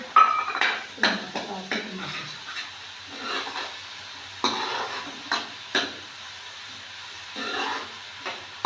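Potatoes, carrots and peas roasting in a pan, with a spoon stirring and scraping against the metal in short bursts over a faint background sizzle, near and moderately loud.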